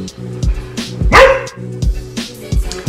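Dog barking nearby indoors, a string of loud sharp barks and yips in an uneven rhythm, with no voices over it.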